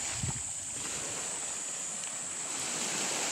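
Sea waves at high tide wash in with a steady, full rush of surf, a brief low thump near the start, with no voices.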